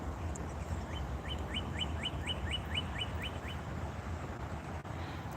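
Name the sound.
bird chirping in the morning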